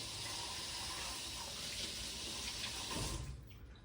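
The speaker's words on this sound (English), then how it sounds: "Just give this a rinse." Orchid roots rinsed under a running tap, a steady close rush of water splashing into a sink that cuts off near the end.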